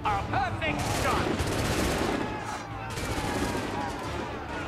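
Gunfire bursts ring out in the Assassin's Creed 3 PC game amid loud, dense combat noise. Several sharp shots repeat rapidly over a busy background across the clip.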